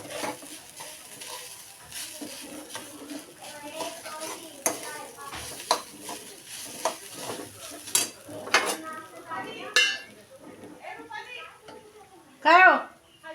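Roasted grated coconut being stirred into kheer in a pot, with irregular scraping and clinking of a spoon against the metal vessel and occasional louder knocks, under intermittent talk.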